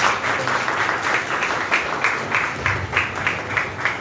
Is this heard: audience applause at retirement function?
yes